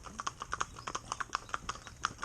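A pair of Shetland pony mares, driven bitless and without blinkers, trot downhill outdoors, their hooves striking in a quick, steady clip-clop of many close, crisp beats with no talking.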